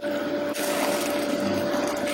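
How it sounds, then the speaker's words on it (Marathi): Steady rushing of water being poured, a continuous broadband gush lasting the whole moment with a faint tonal hum beneath. "त्याच्यामध्ये आता मी थोडं पाणी ऍड करणार आहे"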